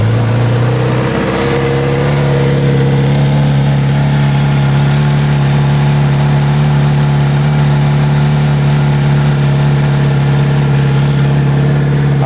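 A Kawasaki Z900 RS motorcycle with its stock exhaust starts and settles into a steady, loud idle, with a deep, even engine hum throughout, recorded up close.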